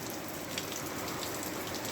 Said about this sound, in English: it's Sunday and it's raining